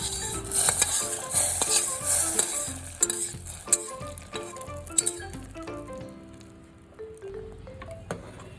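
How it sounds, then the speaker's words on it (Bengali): A fried tempering of curry leaves is poured into cooked dal and stirred in a pot, with metal spoon clinks and scrapes over a fading sizzle in an uneven, busy rhythm. "আমি এই ফোড়নটা এবার ডালের মধ্যে ঢেলে দেবো।"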